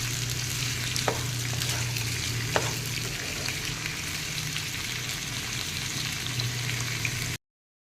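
Sliced potatoes for kachrya fry in a pan with a steady, even sizzle, broken by a couple of light scrapes as they are stirred; no voices.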